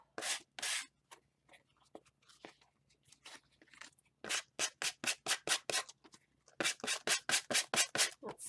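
Sandpaper is rubbed over a small handmade art card in quick, dry scratching strokes. They come in short bursts, then in fast, evenly spaced rows of strokes, close up and fairly quiet.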